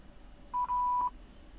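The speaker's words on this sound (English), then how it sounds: "Please leave your name and phone number after the beep." An answering machine on a house phone gives a single steady electronic beep of about half a second, with a tiny break near its start, sounding alone over faint background hiss.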